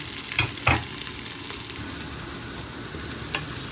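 Onion frying with browned garlic in a pan, a close, continuous sizzle with a couple of brief louder crackles early on, no talking.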